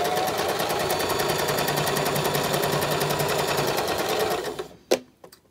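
A sewing machine stitches fabric sewn with shirring elastic in a loud, steady, rapid mechanical run, then stops, followed by a single sharp click.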